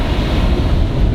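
Rough sea waves at Dwarka beach, a loud, continuous roar of surf mixed with wind buffeting the microphone, with no voices.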